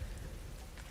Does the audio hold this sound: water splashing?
no